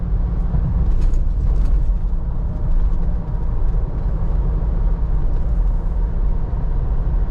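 Inside a Toyota Fortuner Legender 4x2 cruising on a highway at 100 km/h, a steady low road and engine drone holds throughout, with no talk.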